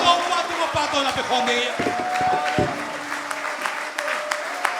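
Church audience clapping hands together in a dense, continuous burst of applause, with voices and shouts mixed in throughout.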